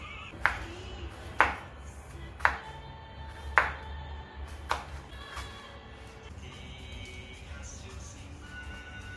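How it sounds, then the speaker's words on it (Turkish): A knife strikes a cutting board five times in evenly spaced, sharp ringing chops, slicing green onions and red peppers, then the sound settles into a quieter background. "Şimdi yeşil soğanları ve kapya biberimi doğrayacağım ince ince."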